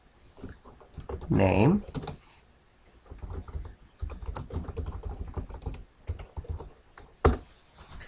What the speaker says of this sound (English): let's say if I type here another statement